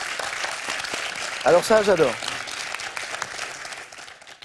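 Audience applause in the studio of the French TV quiz Questions pour un Champion, a steady clapping bed running throughout, with a presenter speaking briefly over it partway through.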